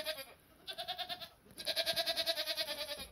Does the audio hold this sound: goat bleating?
yes